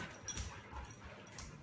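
A dog on a leash gives a few soft whimpers and a short yip, fairly quiet and close, with light background noise and no talking.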